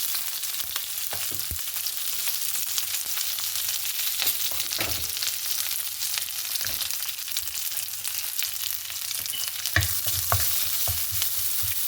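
Mustard seeds and eight cloves of skin-on crushed garlic fry in a pan for a Kerala long bean thoran, a steady close sizzle broken by sharp clicks and scrapes of stirring.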